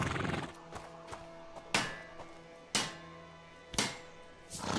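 A horse in A Plague Tale: Innocence gives a short whinny, set against several sharp, resonant thuds and clip-clop hoofbeats spaced about a second apart over a quiet background.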